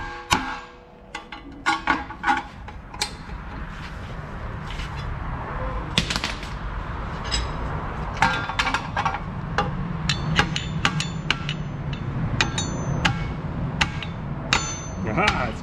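Pry bar knocking and levering at a seized brake rotor in a garage, giving repeated sharp metallic clanks and taps over a steady background hum, with brief voice sounds between strikes.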